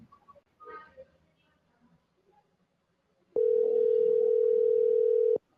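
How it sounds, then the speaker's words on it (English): A steady telephone dial tone heard over a phone line, a loud continuous hum starting abruptly after some faint speech and lasting about two seconds before cutting off. "Can you hear the phone?"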